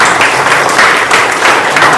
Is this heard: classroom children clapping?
yes